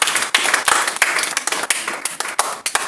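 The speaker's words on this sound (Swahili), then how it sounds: "Give Him a hand clap that is worth His glory." A church congregation claps hands in praise of Jesus, giving a dense, lively burst of applause with sharp, irregular hand slaps that carry on steadily throughout, with no talking over it.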